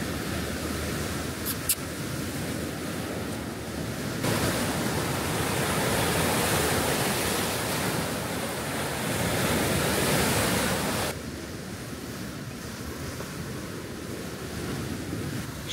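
Surf rolls onto Sangwan Beach on Koh Larn island, Thailand, in the early morning, a steady washing roar of waves with some wind buffeting the microphone, swelling and easing over time with no voices.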